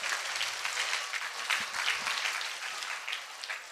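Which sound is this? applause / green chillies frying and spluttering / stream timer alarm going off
applause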